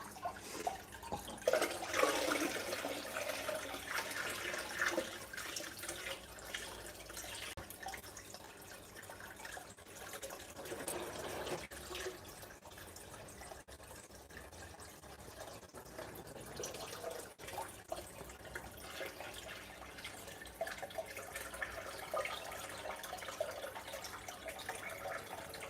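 Water is poured into a fish tank during tank cleaning, giving a steady splashing trickle with drips that runs for about twenty-five seconds at moderate level, swelling briefly partway through, with no voices.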